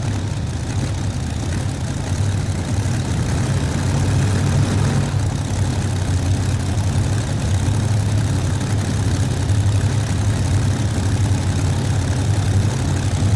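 A low, steady old tractor engine idles continuously with a deep rumbling throb at the 1993 National Farm Machinery Show tractor pull finals, close and constant throughout, with no voices.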